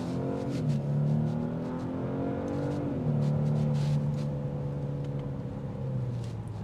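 A Genesis G80 3.5T Sport Prestige sedan accelerating, its engine note climbing through gears in a steady drone with two audible shift drops, heard from inside at a constant moderate loudness.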